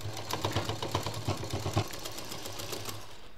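Sewing machine stitching a cloth shopping bag, a fast rattling whir in bursts with brief pauses during the first two seconds, then a steadier running hum, close by and moderately loud with no talk.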